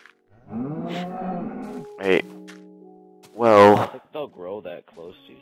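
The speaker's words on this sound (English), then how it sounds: "Get back in your pen, cow." A cow in a survival island video game lets out a long moo, followed a moment later by a second, louder moo. Someone talks briefly between and after the calls.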